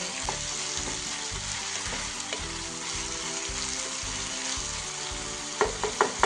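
Frying onions sizzle steadily in a pan for a Kashmiri rogan josh while a spoonful of salt is stirred in, with continuous crackle, faint background music and a few sharp scraping clinks near the end.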